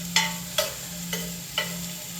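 Onions going into a pan of frying carrots, with soft sizzling under four spaced scraping stirs, close and moderately quiet.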